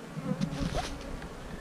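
Honey bees at a hive buzz in a low, steady drone, soft and close, with a few brief louder passes in the first second.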